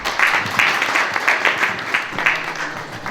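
A small gathering at an art exhibition opening claps in welcome for the publisher of an art magazine, producing brisk, fairly close applause with uneven pulses that taper off.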